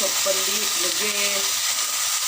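Cleaned drumstick leaves, nugge soppu, dropped into a hot pan give a steady hiss of sizzling, close and even, with a few brief tonal clinks underneath.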